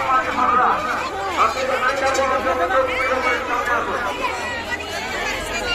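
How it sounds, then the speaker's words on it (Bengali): A dense crowd packs the lanes of the Makri fair, a loud continuous babble of many overlapping voices and chatter close around, with occasional bleats and shouts rising from the throng. "আর ওইদিকে ভিড় দেখতে হচ্ছে, ভিড়, প্রচন্ড ভিড়।"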